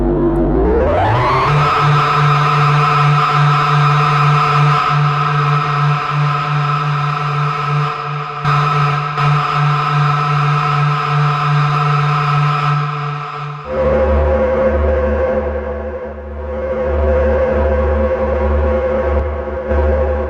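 IK Multimedia Uno Synth Pro analog synthesizer holding a thick sustained note that sweeps up at the start, then drops to a lower pitched drone with a wobbling filter, loud and steady with no voices.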